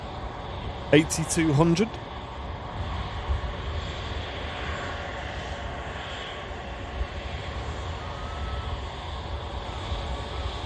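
An Air France jet taxis at Manchester Airport after arriving from Paris, a steady broad engine roar that holds moderately loud throughout; a brief burst of radio chatter comes near the start.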